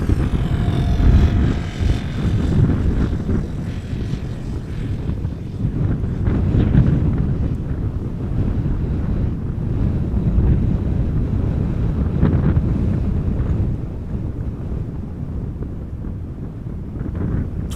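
A strong southwest crosswind blows at Amsterdam Schiphol Airport, a loud, steady rumbling roar that buffets the microphone throughout, with aircraft noise blended into the gusts and no talking.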